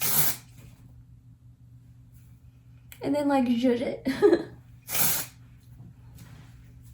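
Short hissing sprays from an aerosol can of hair finishing spray, one at the start and one near the end, with a person speaking briefly between them.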